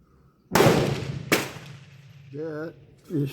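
Two sharp, loud gunshots close by from an Enfield No.2 MK4* British .22 calibre training rifle, spaced under a second apart, followed by brief faint talk.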